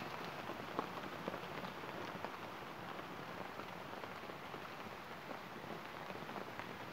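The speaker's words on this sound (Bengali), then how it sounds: "বৃষ্টি শুরু হয়ে গেছে।" Rain falling in a mango orchard, a steady, soft patter of drops on leaves and surfaces that continues evenly throughout, with no voices.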